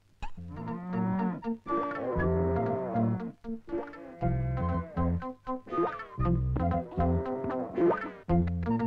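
A cow in a Tamil comedy film scene moos loudly and repeatedly, with long, drawn-out calls following one another closely and no voices over them.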